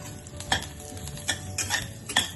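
Green and dried chillies and curry leaves frying in oil with popping mustard seeds for bitter gourd pulusu: a low sizzle broken by several sharp spoon clinks and stirring taps.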